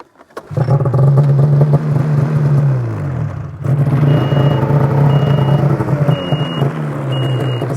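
An Arctic snowmobile backs down a sled deck ramp off a truck, its engine holding a loud, steady low drone with a brief dip midway and faint high beeping tones toward the end.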